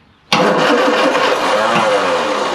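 A classic Mini van engine, off the road for 25 years and fed brake cleaner, cranks and catches abruptly into a loud, close, steady rough running roar that holds after a brief quiet start.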